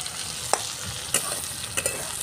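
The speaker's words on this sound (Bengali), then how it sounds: "নাড়তে নাড়তেই নরম হয়ে গেছে।" Soybean chunks being stirred and fried in a pan, with a steady low sizzle broken by a few sharp scrapes of a utensil, close and moderately loud, no talking.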